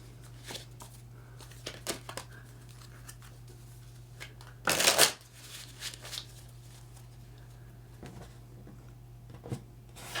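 Tarot cards being shuffled and drawn by hand, giving soft papery flicks and taps scattered across the stretch, with one louder burst of riffling near the middle over a steady low hum.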